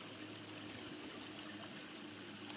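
A small stream in a large park runs in freezing weather, giving a soft, steady trickling and flowing wash that holds even and fairly faint throughout, with no voices over it.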